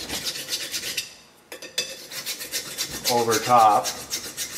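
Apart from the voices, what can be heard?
metal file rubbing over a wheel hub mating surface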